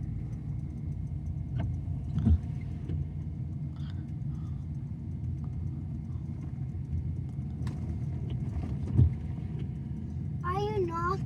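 A car rolls along slowly with the brake pressed, giving a steady low road rumble and faint engine hum from inside the cabin, with a couple of small bumps and people talking quietly.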